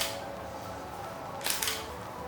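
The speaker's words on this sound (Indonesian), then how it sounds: "waktu shutter atau waktu kalian menjepret itu akan sangat-sangat lamban" Camera shutter firing at a slow shutter speed: a quick pair of crisp mechanical clicks close to the microphone, set apart by a brief pause over a quiet room background.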